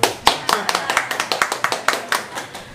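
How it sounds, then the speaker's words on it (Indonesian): People at a birthday celebration at MAN 3 Nganjuk, an Indonesian school, clap in a quick rhythmic beat, sharp close claps repeating about every quarter second. "Nah, tepuk tangan."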